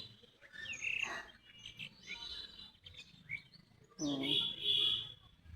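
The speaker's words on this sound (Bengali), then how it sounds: "কিন্তু পাখির ডাক শোনা যাচ্ছে।" Birds calling and squabbling in a bamboo grove beside a house, bursts of chirps and tweets near and far, with a voice speaking partly over them.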